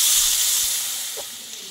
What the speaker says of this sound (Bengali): এখানে অল্প একটু জল দিয়ে দেবো